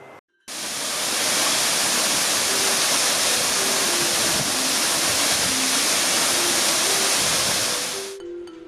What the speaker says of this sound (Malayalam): കുഴുപ്പിൽ കുത്തെന്നറിയപ്പെടുന്ന വെള്ളച്ചാട്ടം